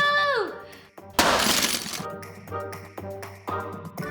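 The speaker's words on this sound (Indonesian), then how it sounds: "Cermin pecah." A mirror shatters in a loud, dense crash of breaking glass lasting about a second, followed by scattered clinks and taps of falling shards, with a voice heard briefly before.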